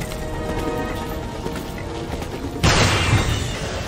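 Gunfire in Resident Evil 4, a dense crackling rain-like texture that turns into a sharp, louder burst of shots near the end, over a steady game background.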